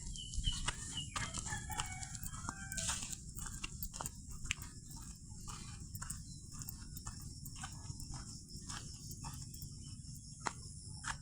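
Chickens cluck at feeding time on a farm, with scattered calls and a rooster crow over a steady bed of crickets, moderately close.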